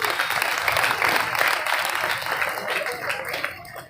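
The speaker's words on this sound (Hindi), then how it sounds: "एक बार तालियां हो जाएं आपकी।" A kavi sammelan audience breaks into dense, sustained applause that fills the whole moment, loud and close, with crowd murmur mixed in.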